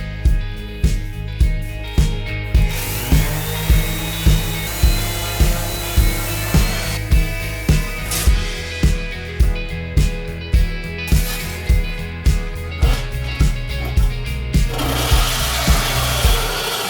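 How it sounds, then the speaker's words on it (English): A file is drawn across the teeth of an old handsaw being restored, making steady, evenly spaced rasping strokes that repeat close by in a regular rhythm throughout. "Filing the top levels all the teeth."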